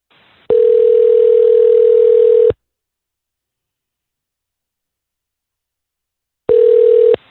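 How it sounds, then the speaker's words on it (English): A steady telephone tone sounds for about two seconds, stops, then returns after a pause of silence, loud and close. "So let's call Dylan and kind of see what's up and see if we can help."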